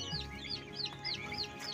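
Young chicks peep in a winter brooder pen, a string of soft, high, repeated chirps at a regular pace over a low hum of background noise, fairly close but quiet.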